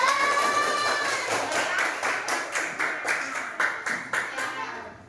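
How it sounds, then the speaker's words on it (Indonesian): Group applause in a classroom, many hands clapping together in a short burst that turns into a rhythmic, fading clap over about five seconds, close and without talk. "Tepuk tangan dulu untuk kelompok 3, mantap."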